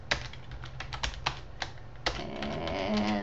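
Keys on a computer keyboard are tapped in short, irregular bursts, soft nearby clicks with a steady low hum behind them.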